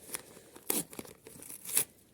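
A paper packet crinkles and rustles while being handled during an unboxing, with a few short, close crackling bursts spread across the moment.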